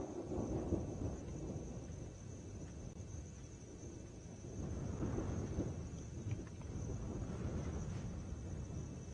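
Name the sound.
thunder rumbling during a safari drive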